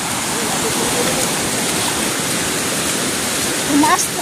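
Strong floodwater rushes loudly and continuously close by, a dense, unbroken roar of churning water with a brief voice near the end.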